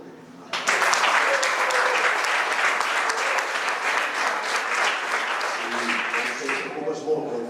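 A tribute at a Catalan event draws sudden loud audience applause that bursts in and holds as a dense, sustained roar of many clapping hands, fading slightly with a voice emerging near the end.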